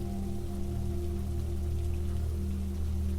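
Steady, continuous rainfall with a constant low rumble and hiss, even in loudness throughout, no voices.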